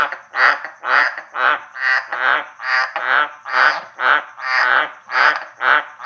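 A large tree frog calls repeatedly in a steady rhythm, about two short, husky, sneeze-like croaks per second, close and clear with nothing else heard.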